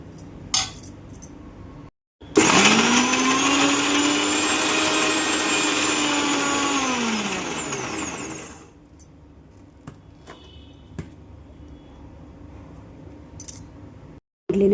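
A kitchen mixer grinder blends no-onion, no-garlic chutney ingredients, a loud steady motor whine running about six seconds before winding down, then quieter clinks and handling noises.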